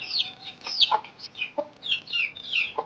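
Chickens cluck and squawk in short, scattered bursts close by, with several birds calling over one another.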